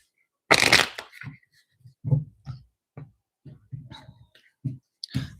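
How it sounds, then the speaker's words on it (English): A deck of tarot cards is shuffled during a card reading, with one loud riffle burst near the start followed by softer, scattered card taps and handling sounds close to the microphone. "Please excuse the loud shuffling."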